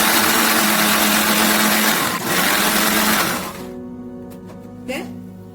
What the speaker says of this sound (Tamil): அதை மிக்ஸி ஜார்ல போட்டு கொஞ்சம் தண்ணி ஊற்றி